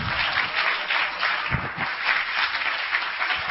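Congregation clapping hands during a church service, a lively mass of claps with some sharper individual hits, fairly close and steady, rising slightly at the end.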